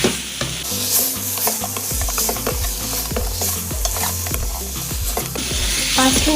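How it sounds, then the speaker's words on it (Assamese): Chicken meat for kadai chicken is stirred in a hot pan, a close, loud sizzle punctuated by rhythmic scraping and knocking strokes of the spatula. "ভালদৰে মাংসখিনি লৰাই ল'ম"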